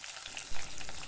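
Sliced shallots frying in hot oil with garlic and curry leaves, a brief bright crackling sizzle close by with a soft thump midway, heard alone without speech.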